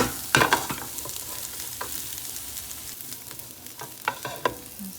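Onions and peas fry slowly in a pan, a gentle close sizzle broken by several sharp stirring scrapes and clatters of the utensil.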